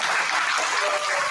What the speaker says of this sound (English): Give a round of applause for Gigi.